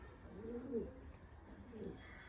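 Young wild pigeon chicks taken from a nest, giving two soft low cooing calls about a second apart against faint background hum, with no talking.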